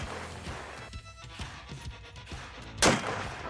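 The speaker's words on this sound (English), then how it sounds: "the bullet we're gonna be shooting today is a 338 CNR, 300 grainer from Lapua" A 338 rifle firing a 300-grain Lapua round through a ported muzzle brake gives one sharp, loud blast near the end, preceded by faint knocks and handling noise.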